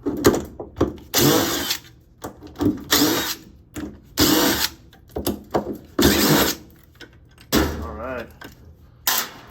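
A power drill running in short repeated bursts, driving screws out of a Whirlpool Cabrio, Maytag Bravos or Kenmore Elite washer during a bearing replacement, with loud whirring spurts, clanks and brief talk between them.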